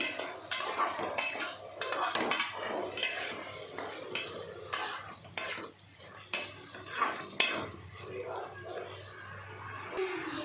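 Metal utensils clank and scrape against a pan in a steady, busy rhythm as chicken liver is stirred and fried, with a faint sizzle and a voice talking intermittently.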